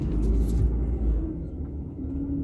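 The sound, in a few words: big truck passing by the car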